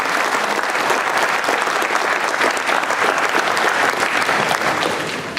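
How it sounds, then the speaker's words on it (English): Sustained applause from a school-event audience gathered for a dads-take-your-children-to-school program, dense steady clapping filling the room at full strength, easing off slightly at the very end. "can we give them another round of applause?"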